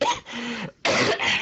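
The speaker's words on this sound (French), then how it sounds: "Plus je parle, plus mon gosier se réchauffe et plus je dois tousser." A man with a warm, irritated throat coughs twice in quick succession, close and fairly loud, with a brief pause between the bursts.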